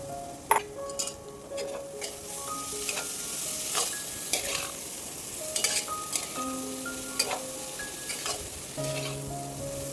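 Dried shrimp (jawla) fry in hot oil and masala with a steady sizzle while a spoon scrapes and clinks against the pan during stirring, close and without speech.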